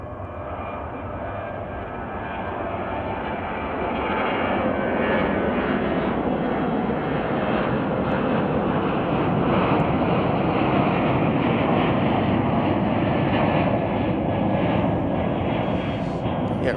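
Jet engine roar from an airliner departing Chicago O'Hare builds over the first few seconds and then holds as a loud, steady, broadband rush with a rumbling low end and no voices over it.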